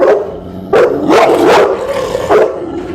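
An adult dog barks close by, several sharp barks and yelps in quick succession, loud and alone.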